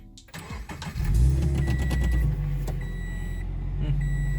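A Subaru BRZ engine cranks briefly and catches, then settles into a steady idle, close by with no talking.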